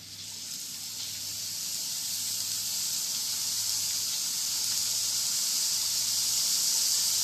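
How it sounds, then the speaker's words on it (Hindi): Potato slices sizzle in hot oil over a medium flame, a steady bright hiss that builds slightly and holds, close and continuous with no voices. "अब हम इनको फ्राई करेंगे एक एक करके"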